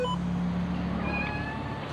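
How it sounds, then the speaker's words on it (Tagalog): A cat meows inside an old abandoned house, making a few faint, drawn-out cries over quiet background noise. "Oh, may pusa ah."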